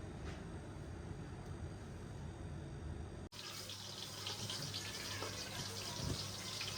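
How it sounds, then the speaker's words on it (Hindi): Bitter gourds stuffed with gram flour fry in mustard oil over a low flame, giving a steady, close, dense sizzle that shifts slightly in tone halfway through. "करेले हमारे फ्राई हो रहे हैं"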